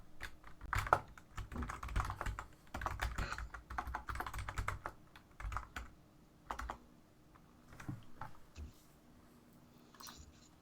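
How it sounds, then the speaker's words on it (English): Rapid keyboard typing in irregular bursts, clattering keys close by with short pauses between flurries, no talking. "All I hear is you typing right now."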